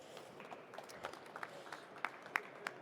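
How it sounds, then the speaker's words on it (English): Audience at a hydrogen and fuel cell trade fair event gives a soft, fairly distant scatter of applause as a company president comes on stage, a few sharper claps standing out near the end. "Please give him a applause"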